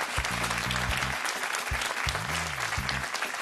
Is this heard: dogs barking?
no